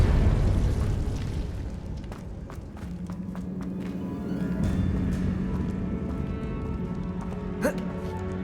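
The Depulso force spell is cast in Hogwarts Legacy, a rumbling, whooshing burst with scattered clicks and light footsteps, ending in a sharper hit near the end.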